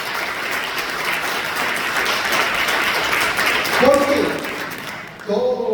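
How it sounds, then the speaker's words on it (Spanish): A church congregation applauding during a Spanish-language worship service, a sustained wash of clapping that swells and then tapers, with a voice speaking briefly near the end. "Dale fuerte el aplauso a Dios."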